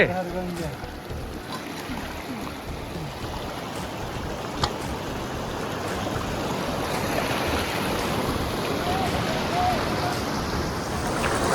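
The Bhagirathi river rushes at its Gomukh glacier source, the Ganges headwaters in the Himalayas, as a steady broadband roar with wind noise. A short voice sounds near the start.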